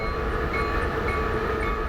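A steady mechanical rumble and whir of a model train engine running at speed, constant and close, with no voices.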